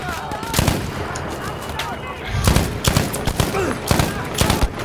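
Gunfire in the video game Battlefield 5 crackles in repeated bursts and sharp single shots, loud and close, with busy battlefield noise throughout.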